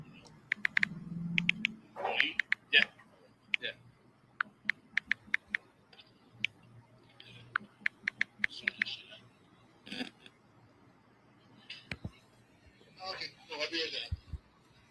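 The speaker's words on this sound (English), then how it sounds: "So you're hearing keyboard clicks." Soft, quick clicks of typing on a phone keyboard come in scattered bursts from near a hot microphone in a courtroom setting, faint and irregular beneath quiet background talk.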